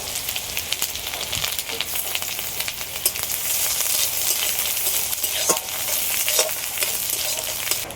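Grated garlic, grated ginger, chili flakes and other ingredients sizzle in a hot pan while being stirred, with a steady frying hiss and repeated scraping strokes of the spoon.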